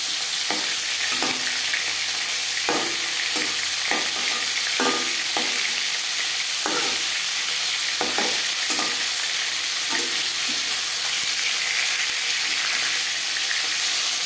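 Aar fish pieces, heads first, frying in hot oil in a pan, a steady sizzle running throughout with repeated scraping and stirring knocks at irregular intervals, close and fairly loud with no talking.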